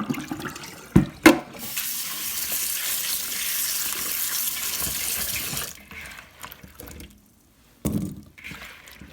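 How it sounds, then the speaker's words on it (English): Boiled potatoes are rinsed under a running kitchen tap for several seconds, a steady loud hiss of water. Clunks and splashes come before and after it, then a short pause and more rinsing. "So my potatoes are done and I'm going to wash them twice at least."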